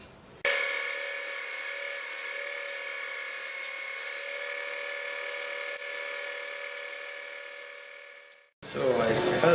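A bandsaw slowly resawing black walnut, a steady high whining cut with a sustained tonal hum, close and even for about eight seconds before the blade runs free and winds down.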